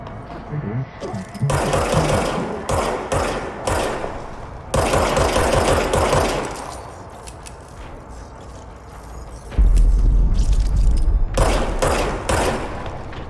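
Gunfire in the video game Control, with rapid mechanical bursts of automatic shots in several separate volleys between pauses, loud and close, and a voice speaking at times between them.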